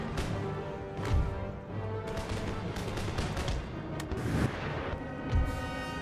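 Artillery fire in the Empire: Total War battle game, repeated heavy booms and crashing impacts over dense musket-like crackle, loud and steady throughout with several strong hits.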